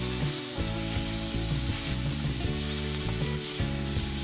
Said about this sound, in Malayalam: ഈ തക്കാളി ഈ മസാലയിൽ കിടന്നൊന്ന് കുക്കായിട്ട് വരണം